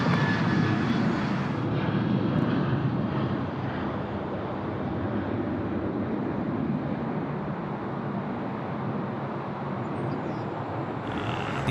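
A passenger jet takes off at night from runway 34 at Sydney Airport, its engines a steady, loud broadband roar that holds throughout and fades slightly toward the end, with no talk.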